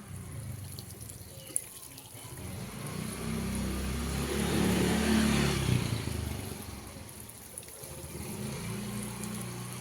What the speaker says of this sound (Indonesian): kalau menggunakan ceret seperti ini, penyiramannya bisa lebih